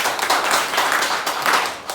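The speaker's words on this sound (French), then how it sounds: "que je demande d'applaudir" Audience applause at the official launch of regional vocational school exams, a dense, continuous clapping that swells and dips slightly over two seconds with no voices on top.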